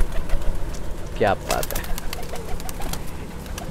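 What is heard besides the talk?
Pakistani Nasal Prince Golden pigeon cooing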